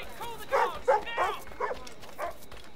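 A dog in Assassin's Creed Rogue lets out a handful of short, irregular barks and yips at middle distance, spaced about half a second apart over quiet background noise.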